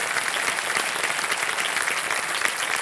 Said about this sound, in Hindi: एक बार फिर तालियों के साथ आपका हम स्वागत करते हैं